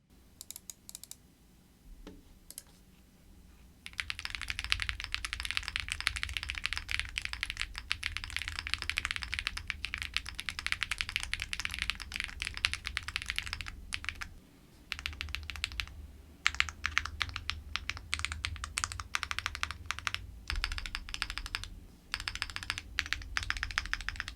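Close typing on an AM AFA R2 mechanical keyboard: rapid, steady clacking keystrokes that start after a few quiet seconds and continue with brief pauses, with no talking.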